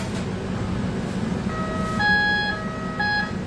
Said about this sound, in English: That's our timer.